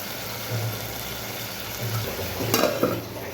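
Shrimp fry and are stirred in a pan while being sautéed for a bottle gourd dish, a steady close sizzle with scraping stirs and a short clatter near the end.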